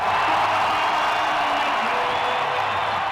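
Arena crowd cheering during a basketball player's introduction, a dense continuous roar with scattered whoops, loud and steady throughout with no clear speech.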